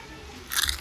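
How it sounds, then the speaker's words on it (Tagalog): One crisp, close bite into a crunchy cheddar and sour cream potato chip, a short sharp crunch after a moment of quiet. "Malutong pa rin siya."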